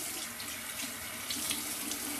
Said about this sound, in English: I'll add a little bit more water